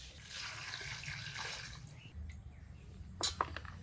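Okra, pumpkin, tomatoes, radish and green chillies are washed by hand in water: quiet splashing and sloshing that tapers off, followed by a few small drips and knocks.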